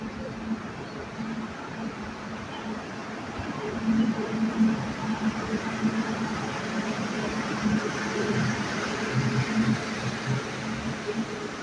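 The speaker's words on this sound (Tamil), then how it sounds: "எதிரில் பார்த்தீங்கன்னா நம்ம ட்ரெயின் வர ஆரம்பிச்சிட்டாப்பில். WAG9 தான் வருது." An electric WAG9 locomotive train rumbles in at a station, a steady low mechanical drone swelling slightly as it nears, with faint voices and station noise around it.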